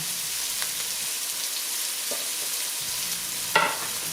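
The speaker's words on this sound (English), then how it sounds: "So now I'm going to throw the onions in. I love the sound of that sizzle." Steady, loud sizzling of onions frying in a pan, a constant hiss with occasional soft scrapes and pops.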